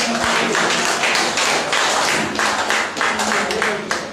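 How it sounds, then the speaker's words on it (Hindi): Steady, dense audience clapping fills a Hindi poetry gathering (kavi sammelan) in Aurangabad, Bihar. It is loud and continuous throughout, with faint voices beneath. "एक जोरदार ताली हो जाए।"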